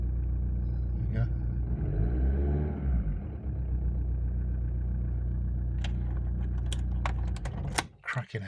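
A 2003 Volkswagen Caddy MK2 van idles with a steady low engine rumble, a brief revving swell partway through, then clicks and clunks near the end as the engine cuts off.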